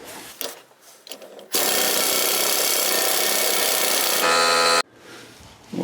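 An impact wrench hammers on the pinion nut of a Ford F-150 rear differential, a loud continuous rattling burst of about three seconds at close range, rising in pitch briefly before cutting off.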